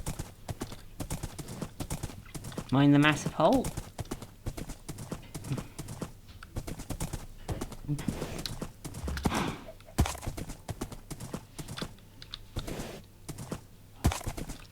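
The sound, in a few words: horse hooves clip-clopping in Minecraft video game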